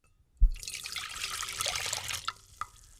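Tea poured into a cup: a steady splashing liquid stream starting with a thump and running about two seconds, then a couple of drips, close and alone with no talking.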